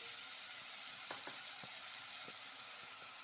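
Ginger garlic paste stir-frying with capsicum and beans for mushroom biryani, a steady soft sizzle broken by a few light spatula scrapes, fairly quiet and with no voices.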